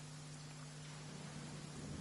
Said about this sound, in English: Since when did it start raining?